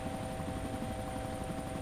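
Steady, close whirring rotor and turbine drone of a helicopter in the video game Arma 2, continuous and even with no talking.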